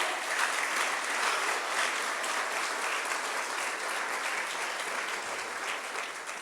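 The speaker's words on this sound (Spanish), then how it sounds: "Dele una ofrenda de palmas al Rey." A congregation at a church service claps in a dense, sustained round of applause that holds steady for several seconds before easing slightly at the end, with no voices over it.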